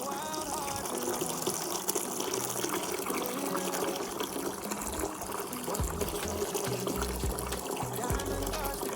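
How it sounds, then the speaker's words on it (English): Water pours into a container to dilute homemade liquid fertilizer, a continuous gushing splash, close and fairly loud, sounding fuller and gurgling as it goes. "Now I'm going to add the rest water."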